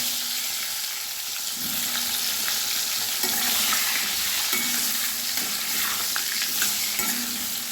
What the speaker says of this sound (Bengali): এবারে ভাজাগুলো আমি এক একে ভেজে নেব।